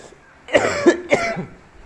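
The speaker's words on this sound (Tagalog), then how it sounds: "Tsaka po pala yung aking ubo." Two harsh coughs from a person sick with a fever, close and loud, follow one another quickly and then stop in silence.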